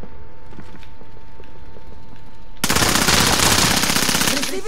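Sustained machine gun fire in the video game Call of Duty: Modern Warfare, a loud rapid burst that breaks in suddenly after a quieter stretch of in-game ambience and keeps rattling to the end.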